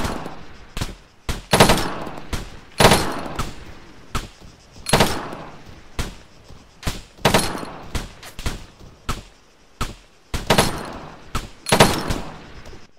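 Repeated loud bursts of machine gun fire in a video game, rattling in short and longer volleys with brief gaps between them, alone without voices.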